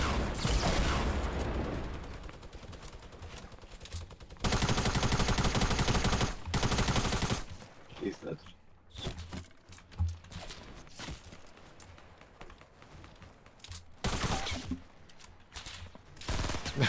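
Gunfire and rocket blasts in a Fortnite 50 v 50 match, dense bursts of shooting with loud sustained stretches and sharper scattered shots between.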